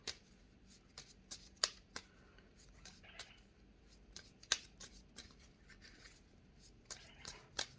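A deck of cards shuffled during a card-reading guidance session, with soft riffling and sharp flicking snaps at irregular intervals, close but fairly quiet, with no talking.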